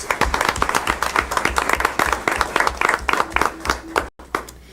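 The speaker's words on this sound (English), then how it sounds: "I'll give him a round of applause." A room of attendees at a public school board meeting applauds a school bus driver, steady dense clapping from many hands that fades out near the end.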